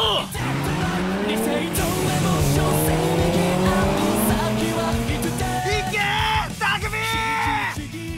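In an Initial D anime film, race cars drift with loud screeching tire squeal and revving engines, mixed with excited voices shouting and dramatic sound over several seconds.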